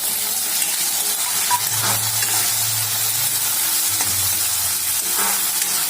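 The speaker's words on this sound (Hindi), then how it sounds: "अब हम इसको अच्छे से भून लेते हैं" Chopped tomatoes sizzling and frying in hot oil in a pan for veg fried rice, a steady loud hiss with occasional stirring scrapes.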